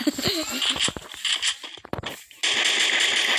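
Rapid bursts of gunfire from a shooter video game, a quick run of sharp shots up front, then a brief lull before a dense, steady wash of automatic fire takes over.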